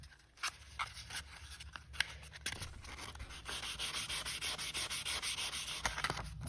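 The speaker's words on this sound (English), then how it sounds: "Starting with 220 grit, I then moved to 320 grit, then to 400 grit" Marine bronze being sanded by hand with 600 grit sandpaper, a close, steady run of rhythmic rubbing strokes that quickens and grows more even in the second half, with no talk.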